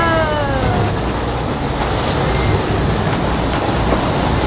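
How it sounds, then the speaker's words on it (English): Steady loud wind roars over a sailboat in stormy weather, mixed with the wash of waves. Gusts near 28 knots keep the broad rushing noise constant and close. "Stormy weather sailing."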